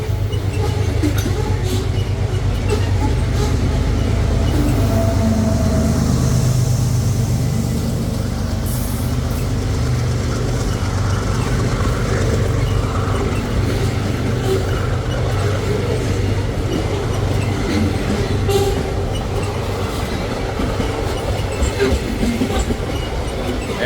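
A long freight train with a Locotrol locomotive rolls past at Bueno de Andrada, São Paulo, a loud steady rumble with clattering wagons and a brief wheel squeal, sustained close by throughout.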